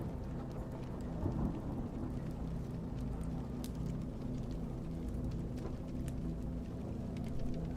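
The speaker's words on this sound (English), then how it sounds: "the storm outside has begun to subside" A steady rain pours outside during a thunderstorm, with a low continuous rumble of thunder under the downpour and occasional sharp drips and crackles over nearly eight seconds, no voices.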